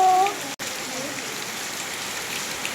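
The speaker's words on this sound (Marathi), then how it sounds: "इथे कंटिन्यू पाऊस चालू आहे" Continuous rain falling at Bendewadi waterfall near Lonavala, a soft, even hiss that holds steady throughout after a brief louder opening moment.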